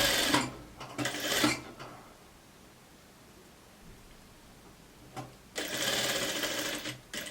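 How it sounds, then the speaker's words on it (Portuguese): A sewing machine stitches a blouse hem in two close, steady whirring bursts, one short near the start and a longer run at the end, with a quiet pause between. "Eu já vou vir pra cá e vou costurar a barrinha"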